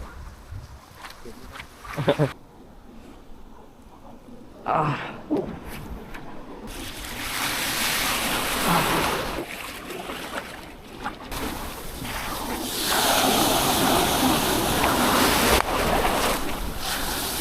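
Surf rolls and crashes nearby in steady waves on a shore fishing spot during windy northeast monsoon weather, with wind buffeting the microphone and a few faint thumps early on.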